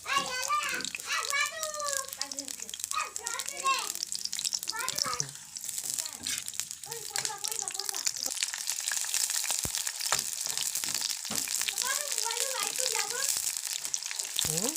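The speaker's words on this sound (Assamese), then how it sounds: "ইয়াত পিঁয়াজ দি দিছে তেল গৰম হৈ যোৱাত" Onions sizzle and crackle in hot oil throughout, a steady frying hiss under intermittent talking, including a voice.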